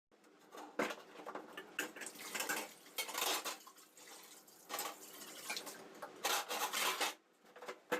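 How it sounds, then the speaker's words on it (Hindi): Dishes, pots and pans being washed by hand in a home kitchen: a steady run of clinking, scraping and clattering metal with splashing water, close and fairly busy, with no talking. "तो बर्तन सारे धुल गए हैं"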